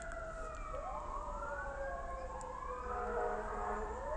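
Emergency vehicle sirens wail outdoors, several rising and falling tones overlapping at moderate distance above a low traffic rumble, no speech.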